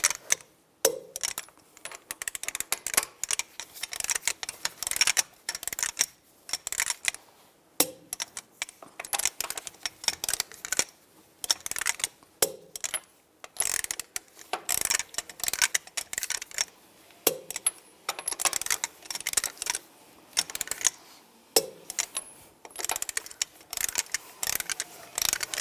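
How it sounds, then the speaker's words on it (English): A torque wrench tightens the rear wheel lug nuts on a Nissan Xterra to 98 foot-pounds in a cross pattern, giving close, crisp bursts of ratchet clicks separated by short pauses as it moves from nut to nut. "Now I'm going to torque the lug nuts to 98 foot-pounds in a cross pattern to tighten the wheel down"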